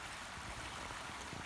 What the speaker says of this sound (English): Beautiful river flowing. Beautiful, just the sounds of the water and the birds.